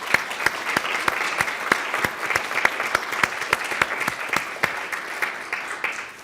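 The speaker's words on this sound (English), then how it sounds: "Can we give the panel a huge round of applause," An audience at a diversity and inclusion conference applauds a panel, with sparse, sharp individual claps standing out from a steady patter of clapping, close and lasting several seconds with no talk.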